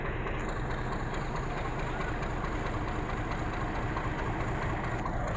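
A heavy tractor engine idles steadily and close by, a continuous low rumble that holds an even level throughout with no voices.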